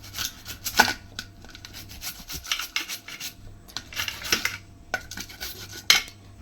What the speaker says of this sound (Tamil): இந்த மாதிரி தூள் தூளாக சீவிக்கலாம்